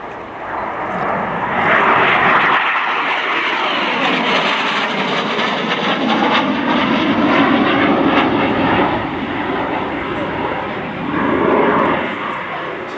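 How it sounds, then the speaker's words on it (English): An AV-8B Harrier II jet roars overhead during an aileron roll in a flying display at the RIAT 2024 air show. The loud, sustained engine noise swells and fades as the aircraft passes. "coming in from the right after that initial fast pass on this run. We'll see it perform now, Aileron Roll."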